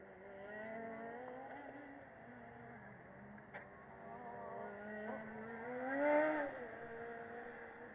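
A UAS Munich Formula Student race car on the FSG 2015 endurance track, its high-revving engine whining as it approaches, swells loudest at its closest pass, then fades away in the distance.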